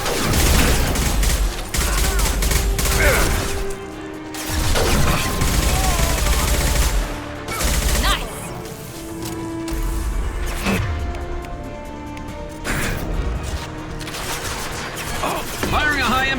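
Heavy high-impact gunfire from Mass Effect 2 combat, several loud bursts of shots and mechanical weapon clatter spread across the stretch, layered with game music and occasional voices.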